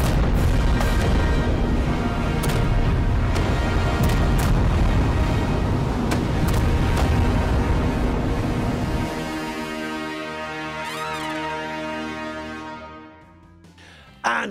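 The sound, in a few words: fireworks sound effect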